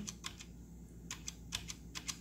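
Keys tapped on a computer keyboard while a number is entered, a handful of crisp, separate clicks over a steady low hum, close and fairly quiet.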